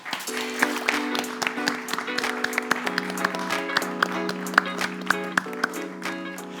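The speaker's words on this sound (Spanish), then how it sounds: "Un aplauso, por favor." An audience at a Spanish panel debate on education, entrepreneurship and sustainable development goals applauds: scattered sharp handclaps ring out over sustained musical tones, moderately loud and fairly sparse across several seconds, with no talking.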